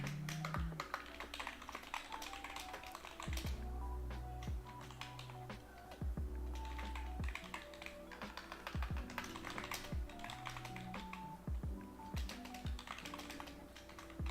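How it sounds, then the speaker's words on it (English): Fast, continuous tapping on a computer keyboard at close range, with irregular bursts of keystrokes and short pauses, heard quietly with no talking. "I gotta finish typing. I gotta type this."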